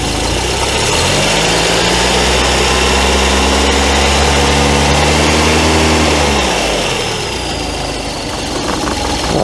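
A classic Volkswagen Scirocco engine idles steadily and loudly close by, with its pitch rising and then settling back down as the idle speed is adjusted, and no one speaking.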